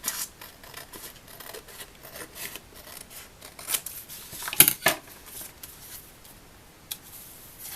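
Scissors snip through paper for a journal at close range, a series of soft crisp cuts and rustles with one louder slice near the middle, fairly quiet throughout.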